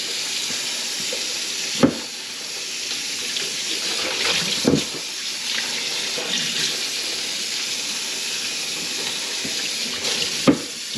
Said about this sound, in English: Rinse all that off. Cold water.